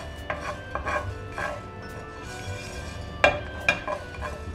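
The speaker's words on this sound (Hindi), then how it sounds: "हमने 1 टेबलस्पून धनिया लिया था साबुत, इसको भी हम हल्का सा भून लेते हैं" Whole coriander seeds dry-roast in a pan and are stirred, making soft scraping strokes with light rattles and a faint sizzle, close and moderately loud, with no voices.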